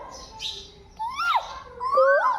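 A voice imitates a koel's call with rising and falling whistled hoots, two or three short calls in a quiet indoor setting.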